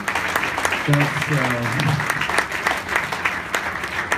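A gala dinner audience applauds the prototype team, a dense burst of clapping from a large room that stays steady throughout, while someone speaks briefly near the start over it.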